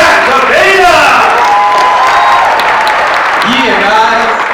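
An awards-night audience claps and cheers in a sustained, close wash of applause, with whoops and shouts rising through it and voices mixed in.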